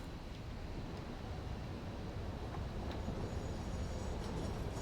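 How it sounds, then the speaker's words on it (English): A freight train in a rail-network building game pulls into a steel outpost, giving a steady, dense rumble of rolling wagons with faint metallic clicks, continuous and fairly distant. "And the train's back"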